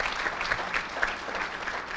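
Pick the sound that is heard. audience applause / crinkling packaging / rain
audience applause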